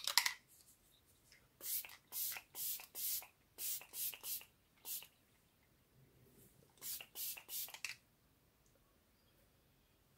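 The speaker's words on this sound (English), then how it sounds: "I'm going to spray this with some setting spray." Several short bursts of makeup setting spray mist hiss close by in two clusters of quick pumps, separated by a quiet gap.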